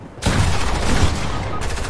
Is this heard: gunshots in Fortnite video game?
yes